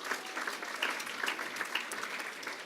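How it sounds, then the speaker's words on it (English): An audience at a Girl Scouts STEM event breaks into steady, fairly faint applause, a dense patter of many hands from across the room. "I think it's worthy of applause"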